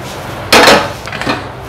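A metal cooking pot being picked up in a home kitchen while making banana pradhaman gives two near, sharp clanks about a second apart, with no talking.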